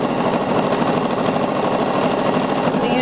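Elna sewing machine stitching a branching fill, a steady, loud, continuous mechanical whir with a fast rattling needle rhythm running throughout, close up and alone.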